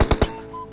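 Gunfire from PUBG Mobile, three sharp, loud shots in quick succession, a short pause with faint in-game tones, then another close shot at the end.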